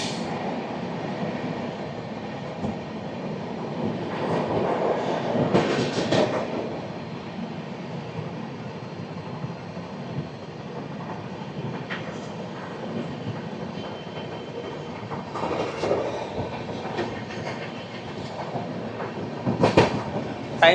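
An East Coast train passes through Anakapalli railway station, heard from on board: a sustained rumble of wheels on rails with rhythmic clickety-clack surges, brief metallic squeals and no talk.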